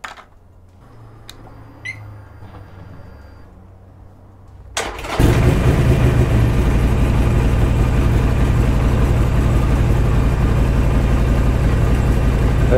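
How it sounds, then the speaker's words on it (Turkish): A motorcycle engine starts after a quiet stretch with faint clicks, catching with a loud burst and settling into a steady, rough close-up idle that rumbles on without talk, heard during a phone mount vibration test. "Sonra vibrasyon önleyiciyi takıp bir motoru çalıştıracağım."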